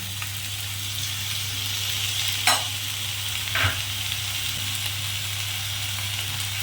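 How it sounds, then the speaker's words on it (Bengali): Potato chop filling with peanuts, black pepper, coriander leaves and chopped chilli is stirred in a hot pan: a steady soft sizzle, broken by two sharp spoon scrapes partway through. "এই সমস্ত জিনিসটাকে ভালো করে নেড়ে নেব।"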